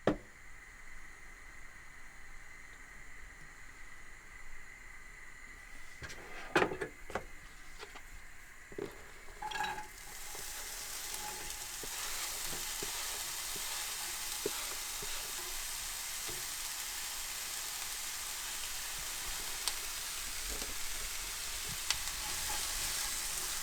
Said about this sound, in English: So the onions have been going for a few minutes and they're starting to get a little golden color.